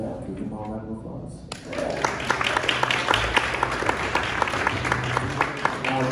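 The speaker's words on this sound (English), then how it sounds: "Can we give them all a round of applause?" A jazz concert audience breaks into applause after a brief lull, dense clapping that swells and holds steady, with voices and a few whoops mixed in.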